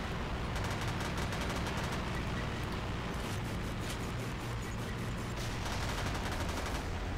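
Assault rifle fire in a low-budget video game, aimed at an enemy tank, comes as a dense, continuous run of rapid shots with overlapping bursts that keeps a loud, constant level throughout.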